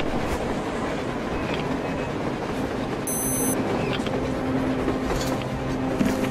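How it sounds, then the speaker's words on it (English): A train rolls past on the surface in the post-apocalyptic shooter Metro Exodus, a steady rumbling wash with a faint clatter and a brief high whine midway, loud and continuous with no talk. "A train! A damn train on the surface!"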